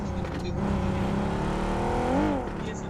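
A car engine in a shooter video game hums and revs continuously, its pitch rising and sweeping as it approaches and passes, while players talk over it.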